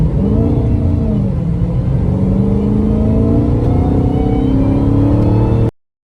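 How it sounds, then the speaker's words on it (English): A 2020 Dodge Challenger SRT Hellcat Widebody coupe accelerates gently while driving, its engine a loud, steady, deep roar that rises slowly in pitch before cutting off abruptly. "To finish off the video of the drive with a slight acceleration."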